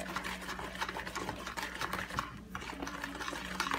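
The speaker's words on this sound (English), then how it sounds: "I'm just whisking in it because I have one." A whisk beats cornbread batter by hand in a bowl, producing a faint, continuous rapid scraping and clicking rhythm against the sides over low background hum.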